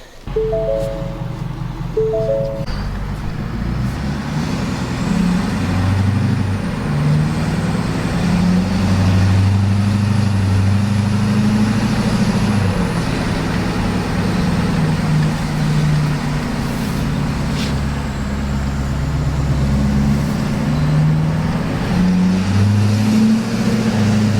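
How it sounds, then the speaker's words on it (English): A Ford 6.7 Powerstroke diesel pickup with a 5-inch exhaust cruises at highway speed, giving a steady, loud low drone of engine and road noise that continues throughout with no talking. "We'll go for a drive here and give you guys some driving sounds."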